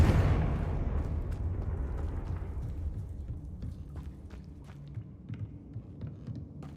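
A Confringo blasting spell from Hogwarts Legacy explodes at the start with a heavy, booming burst that decays into a long rumbling tail, with scattered small crackles and ticks.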